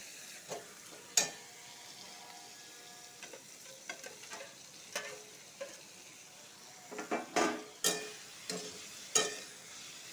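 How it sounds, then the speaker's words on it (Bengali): Paneer frying with spices in a pan, a steady sizzle broken by repeated scraping and clinking stir strokes that grow busier and louder toward the end. "পনিরটার সাথে আবার একটু ভালো করে ভাজে নিব মশলার সাথে"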